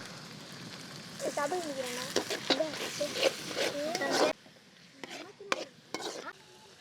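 Tomato puree poured into ginger garlic paste frying in a pan, giving a steady sizzle and hiss that runs under a person talking and drops away partway through, leaving quieter bubbling.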